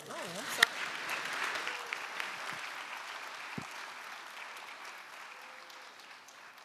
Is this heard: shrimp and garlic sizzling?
no